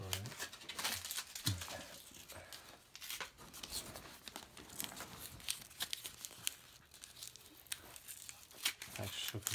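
Foil Pokémon card packs being torn open and crinkled, with dense rustling and ripping close by throughout, while people talk over it.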